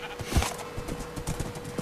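A horse gallops across terrain in the Minecraft video game, with quick rhythmic hoofbeats in a steady clip-clop pattern over the full stretch and no talking.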